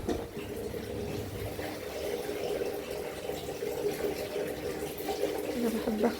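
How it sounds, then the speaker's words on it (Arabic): Tap water runs steadily into a sink while things are washed under it, a close continuous splashing stream with small shifts as items move, and a voice talks over it. "انا بحب اغسل شوية حاجات كده واحطها وبعدين ارجع اشطف"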